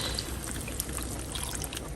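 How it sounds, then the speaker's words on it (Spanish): Water being poured into a pot of tomatoes and chiles, a steady splashing trickle of about half a liter running continuously and close by, with no one talking. "Le voy a agregar 500 mililitros de agua."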